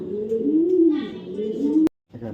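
Racing pigeons give a close, steady cooing, a sustained low wavering call that ends in a sharp click, then a brief quieter coo resumes.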